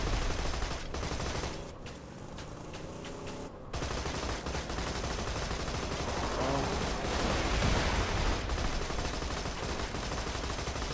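Gunfire in the video game Borderlands 2 comes as rapid bursts of shots over a dense, loud game soundscape, with a brief quieter gap partway through, and no talk is heard.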